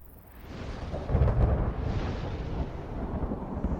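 Thunder rolls over a desert highland of dry canyons during a sudden storm, a deep sustained rumble that swells after the first half second, peaks, then keeps grumbling at a steady level.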